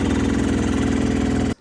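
A dirt bike engine holds a steady, low idle-like rev with a constant rumbling pulse, close by, then cuts off abruptly near the end.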